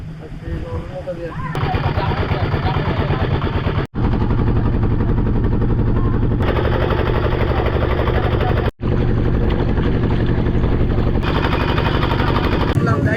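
A motor boat's engine drones loud and steady near Sohosrodhara waterfall at Sitakund, with a rapid chugging rhythm that cuts out abruptly twice, and a voice can be heard early on.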